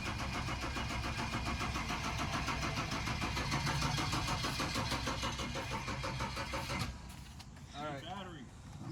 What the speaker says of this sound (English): We should be able to start it for you guys. Prime some turbos, boy!